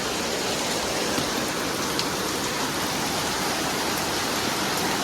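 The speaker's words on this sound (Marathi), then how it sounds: "उन्हाळ्यातला पाऊस बघा" Heavy summer rain pouring in Mumbai, a dense, unbroken wash of falling water with no variation in intensity, heard close and alone for several seconds.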